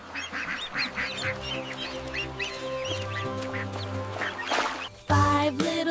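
Ducks quacking in a sung nursery rhyme for children, a run of repeated quacks over a musical backing, fairly close and clear, with a louder honking burst near the end.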